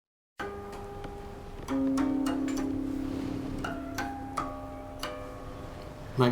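Bright, bell-like plucked harmonics on a guqin, a sequence of light ringing notes over a sustained low tone, delicate and clear.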